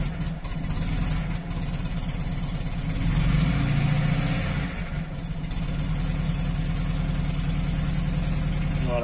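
Cold Fiat 500 engine running with the throttle held slightly open, a steady close chugging idle with a low rhythmic pulse that swells briefly midway, and no voices.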